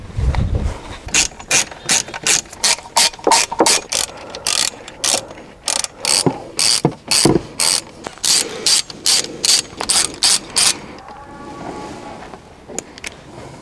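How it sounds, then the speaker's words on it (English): A hand wrench ratchets steadily on a long-neglected 1986 Ford F-350 under revival, producing close, loud bursts of rapid clicking strokes separated by short pauses, with no one speaking. "Wrenches."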